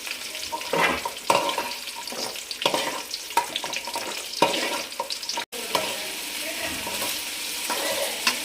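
Sliced onions sizzle and fry steadily in a pan for a paneer curry, with intermittent stirring scrapes and clinks of a utensil against the pan, fairly close and continuous.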